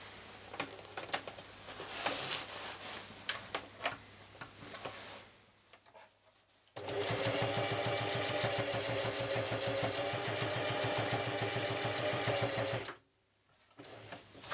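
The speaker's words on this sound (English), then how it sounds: "I'm gonna sew it from here and here to make sure that it stays that way." A sewing machine stitches through thick pleated skirt fabric in two runs, a short one and a longer, steady, rapid needle chatter lasting about six seconds, close and loud, with pauses between runs and no voices.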